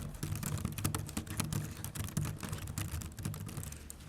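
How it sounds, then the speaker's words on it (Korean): Typing on a Logitech K380 Bluetooth keyboard for iPad, a pantograph-style board with soft, slightly muted clicks: a steady run of quick, close key taps with no talking. "짤깍짤깍 소리가 나는 게 특징입니다"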